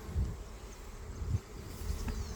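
Honey bees buzzing around mating nuc hives in an outdoor bee yard, a steady low drone with a few louder passes as bees fly close, no talking.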